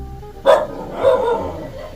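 A dog gives a sharp bark, then a second longer, rougher bark a moment later, close by and fairly loud.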